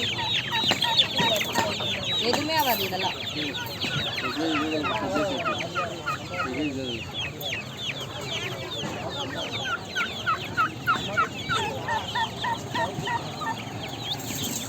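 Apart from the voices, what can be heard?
chickens and roosters clucking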